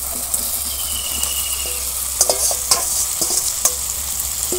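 Fried vegetables go into spiced oil for Bengali shukto, frying with a steady sizzle under repeated clattering spatula strokes and scrapes against the pan, close and fairly loud.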